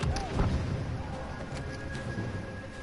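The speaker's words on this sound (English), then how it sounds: "Grenade out." Grenade blast in Star Wars Battlefront 2, a low booming burst with scattered impacts and crackle of battle noise over a couple of seconds, fairly close and loud.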